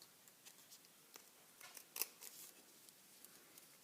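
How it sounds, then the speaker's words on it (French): Quiet, crisp snips of scissors cutting paper, a few sharp clicks scattered over a few seconds with one slightly louder snip near the middle. "Prendre vos ciseaux"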